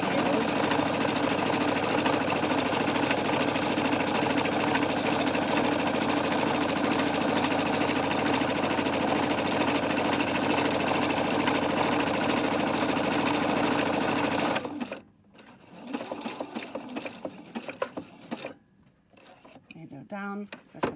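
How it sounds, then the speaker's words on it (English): A sewing machine stitches a 1 cm seam on a simple shopping bag, running fast and steady and fairly loud for about fifteen seconds, then stopping abruptly, followed by quieter scattered handling clicks and a brief final burst. "I'm sewing quite quickly here"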